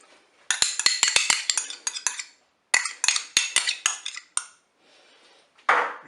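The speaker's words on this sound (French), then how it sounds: "Je vais maintenant ajouter ma crème fraîche." Metal utensils clink and scrape rapidly against a Cookeo multicooker pot as crème fraîche goes in and is stirred, bursts of sharp clatter separated by brief pauses, close and alone.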